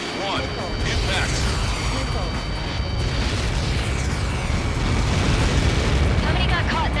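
A huge in-game blast from Helios projectiles impacting in the Ace Combat 7 combat-flight game: a sustained, loud rumbling roar with crackling debris that swells toward the end, mixed with faint radio chatter.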